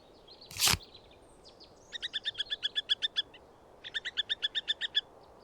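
A great tit call from the bird game Wingspan: after one sharp swish at the start come two clear, rapid runs of repeated two-note chirps, bright and close, evenly paced.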